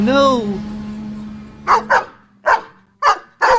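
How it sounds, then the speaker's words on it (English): A voice speaks briefly, then a dog barks five times in short, loud, evenly spaced bursts, close by and clear. "Dogs!"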